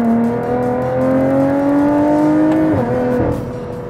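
A Lotus Evora GT sports car accelerates hard on the road, its engine note climbing steadily and loud up close before a quick downshift blip and a renewed rise.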